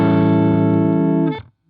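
An electric guitar chord rings through a Fender Frontman amp with no reverb, loud and sustained with a slightly harsh tone, then is cut off abruptly with no tail.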